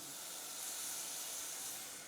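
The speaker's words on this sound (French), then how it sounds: "Je remets un petit peu de jus dans mes patates douces." Juice poured into a hot pan of sweet potatoes sizzles in a steady, bright hiss, close and fairly quiet, holding evenly for about two seconds with no talk.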